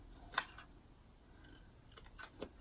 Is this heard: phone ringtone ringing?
no